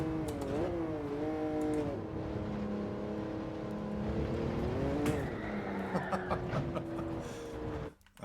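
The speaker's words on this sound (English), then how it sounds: "we are racing on the Autodrome, the Interlagos, in the 1966 Jaguar XJ13" A 1966 Jaguar XJ13 races around Interlagos in Gran Turismo 7, its engine roaring loud and close, pitch climbing through the revs and dropping sharply at gear changes, before cutting out abruptly at the end.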